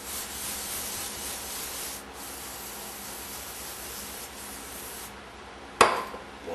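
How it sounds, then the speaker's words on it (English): A part from a Neumann E 47 microphone being rebuilt is wiped clean with solvent, giving a steady close rubbing, scrubbing hiss throughout, followed by a sharp brief knock near the end. "So we're going to clean this off with some solvent."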